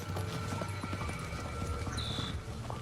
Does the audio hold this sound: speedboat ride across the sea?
no